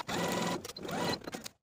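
A domestic sewing machine stitches a sleeve seam on a dress, running in two steady bursts of motor whir with a short pause between, close and alone.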